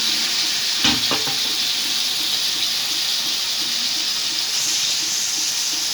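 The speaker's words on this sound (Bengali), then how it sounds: "পেঁয়াজটা ভালোভাবে হালকা লাল করে নিয়ে তারপরে মাংস ছেড়ে দেওয়া হলো" Meat sizzling in a pan with browned onions while cooking tehari: a steady, moderately loud hiss of frying, with a couple of utensil knocks early on.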